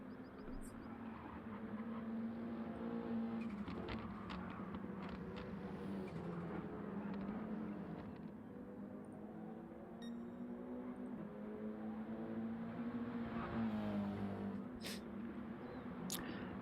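Audi TT Cup race cars in a sim racing game, their engines droning steadily with rising and falling pitch as they shift gears over about seventeen seconds, and a faint voice murmuring underneath.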